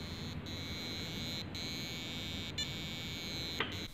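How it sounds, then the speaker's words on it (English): A passive buzzer driven by a micro:bit with a Keyestudio starter kit beeps, a quiet thin electronic tone held steady with brief dropouts roughly every second, over faint background hiss. "you'll need to get the buzzer to play two notes on a loop"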